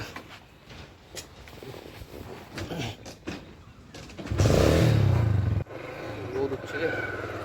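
A motorcycle engine revs up loudly and close as the bike pulls away, rising in a strong burst midway and then cutting off, with people talking around it.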